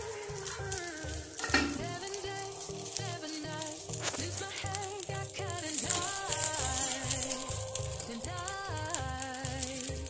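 Burger buns brushed with ghee toast lightly in a pan, with soft sizzling and frequent clinks and scrapes of a utensil moving them around, fairly quiet and without speech.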